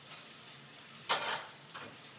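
A hot pan for spicy chip pasta hisses faintly, then a sudden louder burst of sizzling flares up and fades, followed by a smaller second flare, close by and quiet overall.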